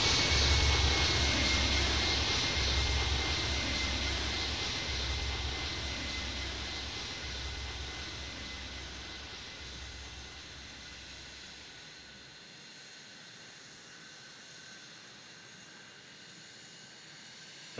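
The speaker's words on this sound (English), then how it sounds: "Interjet 419 will land runway 27." An airliner lands in the airport video game Airport Madness 3D, a loud, steady jet engine roar and hiss that slowly fades and thins as the plane rolls out, with no talking over it.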